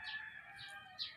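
Rooster crowing among backyard breeding chickens, a bright drawn-out call that rises and swells, fairly close and alone with no talk.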